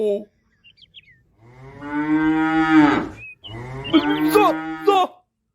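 A cow moos twice, long and loud, close by, with a brief bird chirp between the calls.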